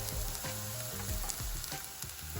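Garlic and ginger frying in a pan for an eggplant bharta, a steady, loud sizzle with crackling pops and a few stirring scrapes, with no talk.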